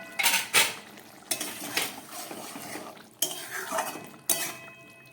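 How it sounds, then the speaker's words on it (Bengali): A metal lid comes off a pot of simmering potato curry with several close, sharp metallic clanks and rattles, spaced apart over a faint background sizzle. "চলুন ঢাকাটা খুলে দেখাই।"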